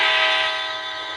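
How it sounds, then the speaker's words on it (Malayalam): A loud, sustained horn blast from a train in a multiplayer horror train game. It holds one steady, harmonically rich tone, fades slightly toward the end, and sounds alone with no talk. "ഈ ഹോൺ അടിച്ചാൽ ചൂച്ചു വരും"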